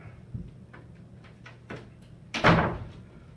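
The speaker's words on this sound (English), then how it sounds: "Let me close this door over here." An indoor door is shut once in a room where a group has gathered, landing as a single loud knock near the end after a few faint taps and shuffles, with no voices heard.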